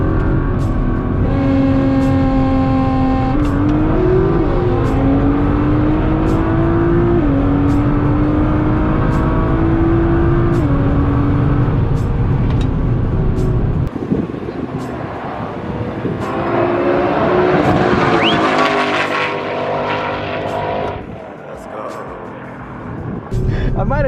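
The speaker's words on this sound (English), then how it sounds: "I thought I heard the Mustang take off" Ford Mustang GT350 at a drag race, engines roaring loud and continuous with rising and falling revs and gear changes, another car's launch surging in the second half, voices talking underneath.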